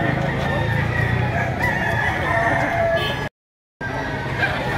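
Roosters and chickens at a poultry sale in Lipa, Batangas, crowing and clucking amid a dense, noisy crowd of birds and people, loud and continuous with a brief dropout.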